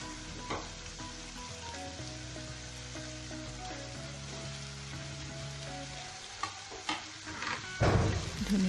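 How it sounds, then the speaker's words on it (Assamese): Chicken pieces and potatoes fry in a pan with a steady, close sizzle throughout. A few sharper clinks and scrapes of stirring break in near the end. "এইদৰে 7 মিনিটমান ফ্ৰাই কৰাৰ পিছতে মই আলু কিটুকুৰাৰ লগত দি ফ্ৰাই কৰি ল'ম।"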